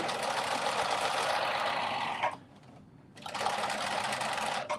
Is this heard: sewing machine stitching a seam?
yes